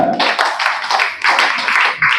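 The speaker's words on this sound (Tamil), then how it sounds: "ஒரு கைத்தட்டம் கொடுங்க" An audience claps steadily at a Tamil lecture, the dense, bright patter of many hands rising and falling in waves for a couple of seconds and ending in a brief lull.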